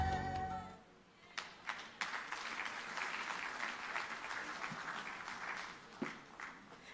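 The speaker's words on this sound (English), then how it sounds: "A bigger round of applause for our winners, friends and colleagues" Audience at an agriculture and agro-processing recognition awards ceremony applauds its winners, a steady round of clapping rising after a brief spoken moment and continuing evenly, with a few sharper bursts.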